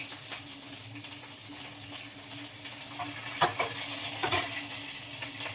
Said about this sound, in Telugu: పచ్చిమిరపకాయలు వేగే వేగాలండి బాగా